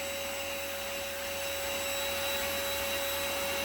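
A HEPA-filtered household vacuum cleaner runs with a steady, close motor drone and a high whine, holding constant throughout with no talking.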